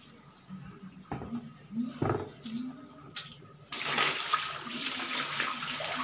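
A tap turns on and water runs hard into a bucket, a steady splashing rush that starts partway through after a few low knocks and clanks, close by with no talking.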